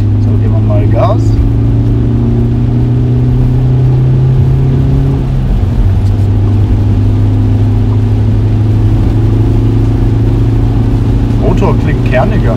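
Car engine with Liqui Moly CeraTec and Speed Tec additives in oil and fuel, revving up as the throttle opens; a loud, steady low drone with a pitch shift midway, close up, with a few faint voice bursts.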